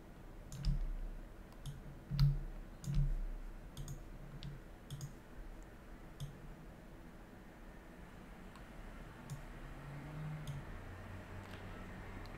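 Scattered soft mouse clicks at a computer desk during CAD modeling work in Creo software, a few close taps early on and then sparse faint ticks over a low steady background hiss.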